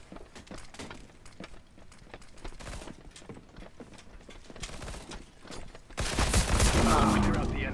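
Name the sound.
light machine gun fire in a video game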